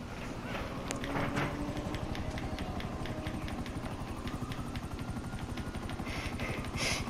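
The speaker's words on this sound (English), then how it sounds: "Get to the chopper." Helicopter in the GTA video game, its rotor chopping in a fast steady pulse at close range with engine whine underneath, running continuously throughout.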